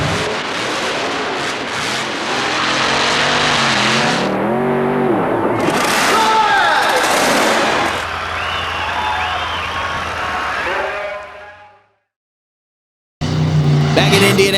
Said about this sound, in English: Mike Miller gets ready to take to the track in Bigfoot.